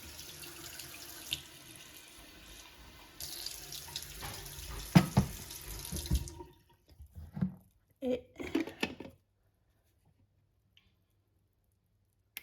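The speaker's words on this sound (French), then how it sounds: "On va mettre un peu d'eau." Water running from a tap and splashing into a container while a matcha drink is prepared for a milk frother, steady and close for about six seconds, then a few short sputters and drips before silence.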